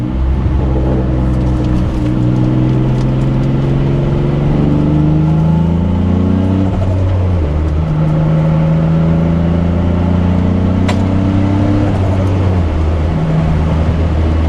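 A turbocharged Nissan 350Z drives along, its loud, steady engine drone rising and falling through the gears, heard up close from inside the car with no talking.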